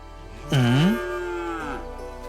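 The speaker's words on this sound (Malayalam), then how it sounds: "എവിടുന്നോ വഴിതെറ്റി വന്നൊരു പശു." A stray cow lets out one loud, close moo lasting about a second, then a fainter drawn-out tail of the call fades over a steady background hum.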